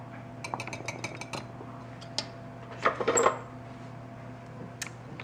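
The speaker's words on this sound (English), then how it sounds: "I'll just give these a whisk to combine before I add them to the bowl." Flour, baking soda, salt and cinnamon whisked together in a bowl for oatmeal cookies, heard as a run of quick light metallic clinks and scrapes, with a brief busier clatter midway, close and alone.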